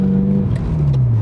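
Ferrari F355 engine revving, a loud close tone that holds steady and then drops slightly in pitch as the revs ease off, brief and alone.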